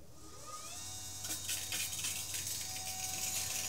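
FASS 125 diesel lift pump running on a test bench at 20 psi and 14.2 volts, a faint steady electric whine and hum with a brief rising tone, then a denser hiss from about one second on.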